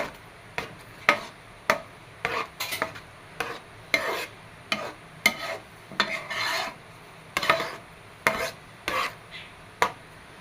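A thickened jackfruit mixture is stirred in a pan, with repeated rhythmic scraping strokes of a spoon against the metal, each a short rasp with brief pauses between, close and clear with no talking.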